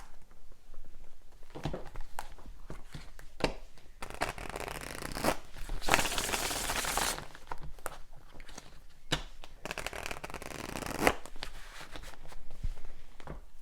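Tarot cards are shuffled in bursts of dense papery riffling and patter, close and moderately loud, with brief pauses and taps between runs and no talking.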